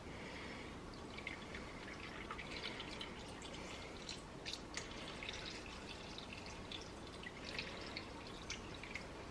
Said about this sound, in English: Alright, so I'm going to pour my beef stock in.